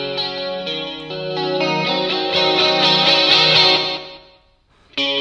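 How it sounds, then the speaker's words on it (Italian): Electric guitar re-amped through a preamp with a chorus effect placed after it, plus some distortion, playing a shimmering, wavering chord passage at steady volume that fades out near the end and then briefly starts again, with no talking. "ci mettiamo un bel chorus adesso, perché no?"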